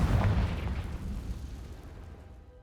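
A Confringo spell explosion in the video game Hogwarts Legacy, a single deep boom at the start that rumbles and fades steadily over a couple of seconds, heard alone.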